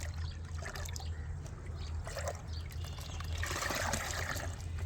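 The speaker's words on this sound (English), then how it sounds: "we'll dilute it with water, 1 part fertilizer to 10 parts water." A steady trickle of water pours continuously for several seconds to dilute fertilizer, with a low hum underneath and no voices.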